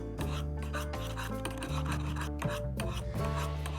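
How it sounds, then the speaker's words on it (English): A kitchen knife tip being sharpened on a diamond and ceramic hone, a continuous rasping rub in quick repeated back-and-forth strokes, close and fairly loud with no talking. "If your tip is struggling, you can sharpen just that bit and just kind of focus on the tip."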